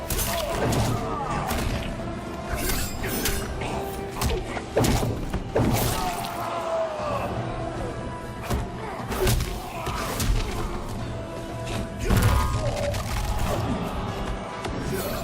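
Fight hits in Mortal Kombat 11 as Baraka battles Scorpion, a dense and loud run of thuds, smashes and whacks against the game's constant backdrop.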